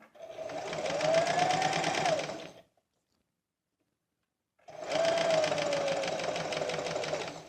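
Sewing machine stitching a seam on a flared eight-panel skirt, two steady runs of rapid mechanical whirring separated by a silent pause of about two seconds.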